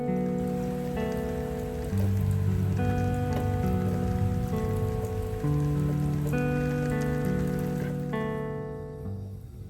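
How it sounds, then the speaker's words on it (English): Steady pouring rain patters down on a surface, a dense continuous hiss with soft sustained music chords playing over it throughout. "It's raining today as well. Just the rain just pouring down at the minute"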